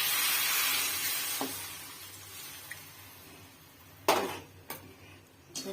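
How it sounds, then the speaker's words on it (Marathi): Water and spiced water go into a red crab curry sizzling in a pan. A steady sizzle fades slowly, then a few sharp splashes and clatters from the pot follow near the end. No one speaks. "त्याच्यामध्ये आपण वेगवेगळे पातळीचं पाणी आणि मसाल्याचं पाणी एड करून घेऊ"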